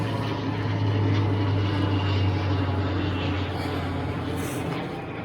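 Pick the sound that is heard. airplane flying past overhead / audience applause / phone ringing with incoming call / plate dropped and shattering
airplane flying past overhead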